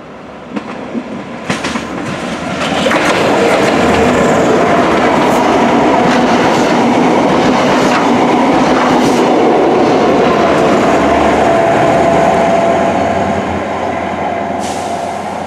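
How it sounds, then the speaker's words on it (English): A Class 43 HST high-speed train passes near Droitwich Spa, building from faint to a loud, sustained rumble with rhythmic clickety-clack of wheels on rail joints, then easing slightly toward the end. "we're just waiting for the HST"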